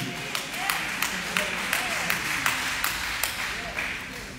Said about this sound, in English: The claps are just claps of agreement.